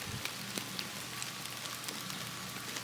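Steady rain patters on surfaces around a campsite after a night of torrential rain, with a campfire still going nearby; soft, even hiss with scattered drop ticks, no voices.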